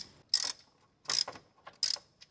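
A ratchet wrench loosens a size 10 bolt on a car engine during a tune-up, three short sharp bursts of rapid clicking close to the microphone, with no talk.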